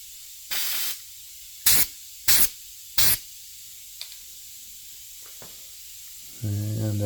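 Short, sharp aerosol hisses from flat black spray paint on a guitar peg head, four separate bursts close up, followed by quiet and a voice starting at the end.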